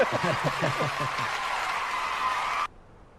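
Applause and hand clapping from a small group at a live Q&A event, steady and fairly close, with a few chuckles mixed in, then cutting off abruptly near the end.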